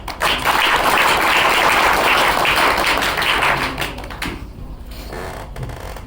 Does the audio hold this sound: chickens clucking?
no